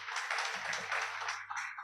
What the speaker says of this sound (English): I would like us to give them a round of applause in absentia